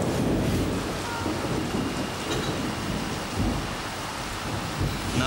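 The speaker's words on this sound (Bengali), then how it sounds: "বৃষ্টি পড়ছে" Heavy rain pours steadily in a dense hiss, with deep thunder rumbling through it, loud and continuous throughout.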